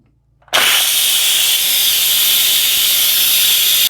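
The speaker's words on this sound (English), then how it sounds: "I waited for 3 to 4 minutes after 6 minutes over, and I'm just going to release the pressure." Instant Pot pressure release: after a brief quiet start, a loud, steady jet of steam hisses continuously and close by for over three seconds, then cuts off abruptly.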